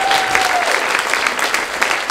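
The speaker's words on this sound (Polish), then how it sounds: "Brawa!" Audience in a hall at a Toastmasters-style gathering bursts into applause, a steady dense patter of clapping at moderate loudness, with a brief faint tone near the start.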